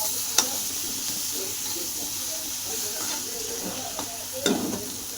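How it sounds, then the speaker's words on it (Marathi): Chicken with fenugreek sizzles and hisses steadily in a wok, with a few sharp clinks of a utensil scraping and stirring. "आपण आता वापस परतून घेते सगळं"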